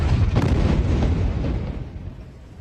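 Israeli airstrike explosion in Gaza City, a single heavy distant boom with a deep rumbling tail that slowly fades over a couple of seconds, no voices.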